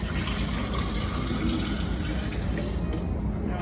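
Beef stock ladled from a stock pot into jars gives a steady, loud watery rush and splashing of liquid that runs unbroken throughout, with no talk.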